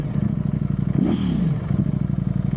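Ducati Streetfighter V4S four-cylinder motorcycle engine idling with a deep, steady rumble, then a quick rev that rises and falls before settling back to a throbbing idle, close and loud with no talking.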